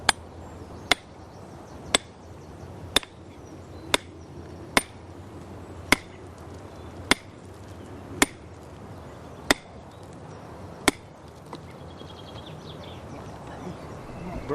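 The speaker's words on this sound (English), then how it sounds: "when you beat it with the hammer" Sharp metallic hammer strikes on an iron wedge driven into rock ring out outdoors, about twelve evenly spaced blows roughly a second apart, with faint birdsong in the background.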